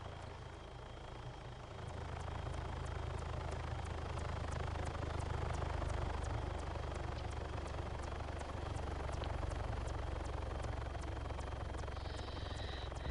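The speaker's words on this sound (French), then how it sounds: "Non, c'est pas grave, on entend l'hélico de toute façon." A helicopter flying overhead, heard as a steady, loud rotor drone with rapid regular blade chop that swells in after a couple of seconds and holds throughout, with no voices.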